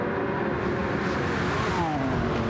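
Race car engines roaring at Le Mans in Gran Turismo 7, a loud sustained engine drone with rising and shifting pitch as cars accelerate close by.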